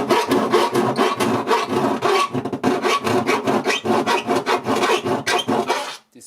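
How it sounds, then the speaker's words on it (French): Metal being filed with a round file while fitting a trailer hitch on a Toyota Avensis, a steady rhythmic rasping of quick back-and-forth strokes, close and loud, with a brief pause partway through and no talking. "je fais ça avec une lime ronde"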